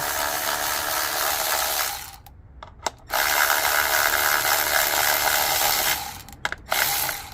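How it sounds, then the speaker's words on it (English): Powered ratchet spinning out ignition coil bolts on a 2016 Acura TLX V6, a steady close mechanical whir lasting about two seconds, then a brief pause and a few short clicks, followed by another long run and a couple of quick bursts. "If you don't have one of these powered ratchet, get one, or you can just use a normal hand powered ratchet"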